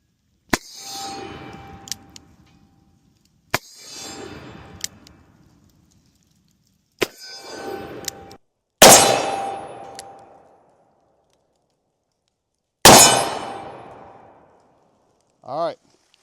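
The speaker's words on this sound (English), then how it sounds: "So we're just gonna shoot it at the steel." Five sharp pistol shots fire one at a time, spaced a few seconds apart outdoors in cold weather. Each is followed by a ringing metallic clang from a steel target that fades out, with a short whistled tone at the end.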